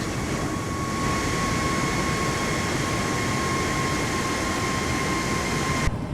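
A jet's afterburner roars as a steady, loud, unbroken rush with a thin high tone above it, in Flight Simulator 2024 running at high resolution on a PC, with no talking.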